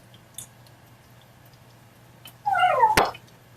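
A cat in a home kitchen lets out a single clear, fairly close meow with a rising then falling pitch, ending in a sharp click, against a quiet background with a low steady hum.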